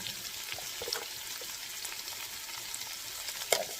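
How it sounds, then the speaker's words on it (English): Onions fry in a pan for chicken biryani, giving a soft, steady sizzle with occasional small pops and crackles, fairly quiet and close. "Now let this fry for some time."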